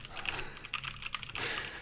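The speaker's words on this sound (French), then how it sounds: "Est-ce que t'aimes quand je tape au clavier, là? Tu aimes mon clavier Logitech?" Keys clatter on a Logitech computer keyboard, picked up by an off-camera microphone for streaming. Quick irregular clicks come in dense bursts at close range, fairly quiet overall, with no clear speech over them.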